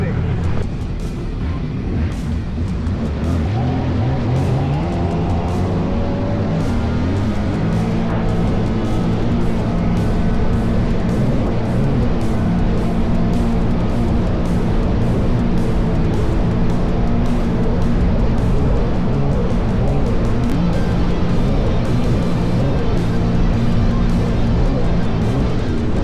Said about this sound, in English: listening to that boat. That boat is rock and roll.